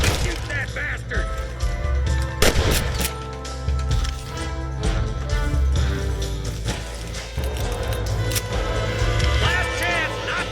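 Gunfire in Red Dead Redemption, sharp cracking shots breaking out amid busy game action, with voices talking over much of it.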